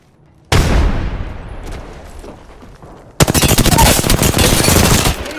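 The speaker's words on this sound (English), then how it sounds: "Getting shot at." Loud gunfire from Apex Legends on World's Edge or Kings Canyon: a sharp initial blast with a decaying tail, then a dense rapid burst of automatic shots, close and alone.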